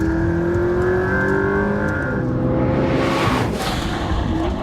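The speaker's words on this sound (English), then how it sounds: "The weirdest thing is that it just does not stop accelerating." A McLaren P1 supercar accelerates hard on a road test, its loud engine note climbing steadily through the gears before a rushing surge takes over near the end, close and continuous throughout.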